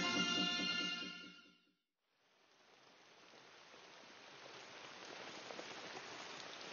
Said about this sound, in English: For much of the year in the Amazon, it rains.